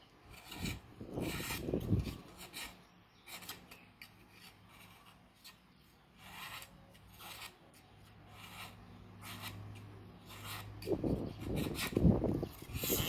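A knife shaves thin strips from lan palm stems in two bursts of rough, rasping strokes, one near the start and one near the end, with quieter scraping between them and no talk.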